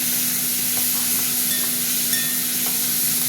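Prawns hiss and sizzle steadily in a hot pan while cooking for a pointed gourd and prawn curry, a close, even frying sound with no talking.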